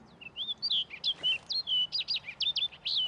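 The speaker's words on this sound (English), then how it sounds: "Look at this duck." A duck in a LucasArts video game gives a rapid series of bright, high chirps in short bursts, close and fairly loud, against a quiet background.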